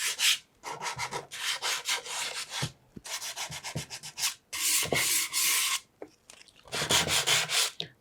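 Hand sanding on a wooden DIY tool box, with bursts of dry, raspy rubbing in uneven strokes that stop and start, close and fairly loud, with no talking.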